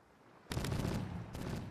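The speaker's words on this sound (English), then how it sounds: "You are shooting over him." Gunfire in the video game Caribbean! breaks a quiet lull with a sudden loud rapid volley, then a second short burst follows a moment later.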